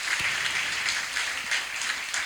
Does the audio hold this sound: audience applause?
yes